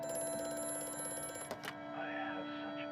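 An old telephone rings with a fast metallic bell trill in the horror game Amnesia: A Machine for Pigs, then stops abruptly, leaving a faint hum.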